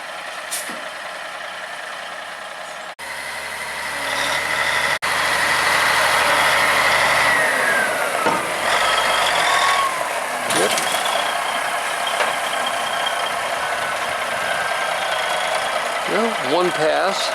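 A heavy dump truck idles and rumbles nearby while dropping a load of gravel on a barn site, with air brake hiss and mechanical clatter over a steady low drone.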